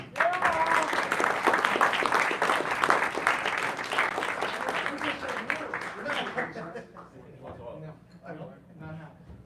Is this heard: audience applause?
yes